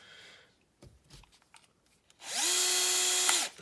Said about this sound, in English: I'm going to be using a 3mm drill bit to drill a pilot hole.